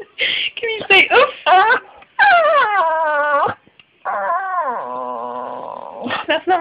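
Dog vocalizing up close, a mix of whiny whimpers, yips and drawn-out growling moans in uneven bursts, with short pauses between them.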